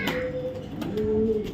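Racing pigeons give short, close cooing calls, a few low throaty phrases at moderate loudness with faint background voices.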